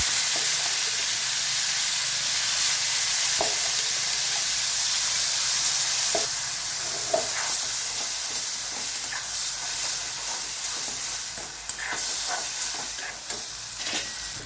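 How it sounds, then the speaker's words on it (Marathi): Ground garlic and red chilli chutney paste fries in hot oil with cumin, giving a steady, close hiss and sizzle throughout, broken by scattered soft stirring clicks and pops. "तेल गरम झालं की त्याच्यामध्ये टाकणार आहे थोडंसं जिरं आणि आता टाकणार आहे आपण बारीक केलेलं सर्व साहित्य"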